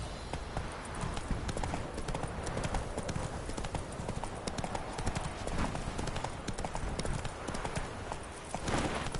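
Roach the horse galloping in The Witcher 3, a steady, rapid clip-clop of hooves running continuously at moderate loudness with a busy game background throughout.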